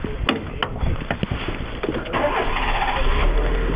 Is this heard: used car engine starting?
yes